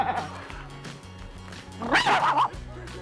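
A man imitates a barking dog with his voice, giving a short run of yips and woofs close up, ending in a louder, higher bark.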